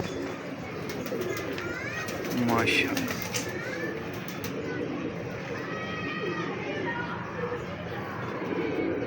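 Soft pigeon coos and bird sounds mingle with close conversation, people talking over a steady outdoor background.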